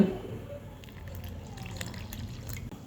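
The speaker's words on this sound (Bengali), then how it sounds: "এ পর্যায়ে দিয়ে দিচ্ছি পানি" Water poured into a bowl of spiced batter for pumpkin flower fritters, a soft close trickle and drip, quiet and brief with no talk.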